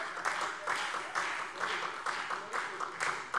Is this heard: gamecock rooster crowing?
no